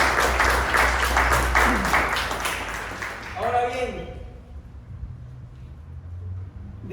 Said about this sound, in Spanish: Dale un fuerte aplauso a la presencia del Señor.